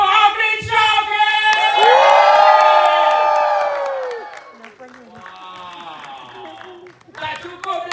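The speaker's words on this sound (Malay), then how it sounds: "Korang janji korang jerit kuat-kuat untuk Dato' Afrin Shauqi." A crowd at a film cast appearance screams and cheers loudly for a film actor, with shrill sustained shrieks and whoops swelling and fading, plus scattered clapping and shouts.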